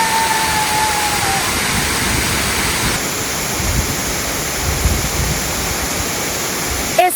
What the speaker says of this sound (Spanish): espectacular cascada.